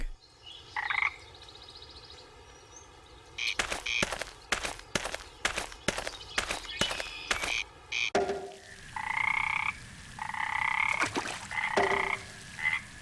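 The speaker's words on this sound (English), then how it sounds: "I always loved going to bed and hearing frogs sing in the pond." Frogs croak at a lake in the video game Memoranda, bright repeated croaks heard close, first alone, then under a run of rapid footstep-like thumps, then again in clear bursts.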